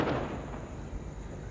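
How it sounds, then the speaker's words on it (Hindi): Firecrackers bursting outdoors, apparently for a wedding celebration nearby: a sharp loud pop at the start followed by fainter scattered cracks and a lingering rumble, with no talking. "बाहर पटाखे फूट रहे हैं, शायद किसी की शादी हुई है।"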